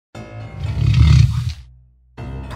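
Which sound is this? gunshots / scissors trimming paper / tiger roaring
tiger roaring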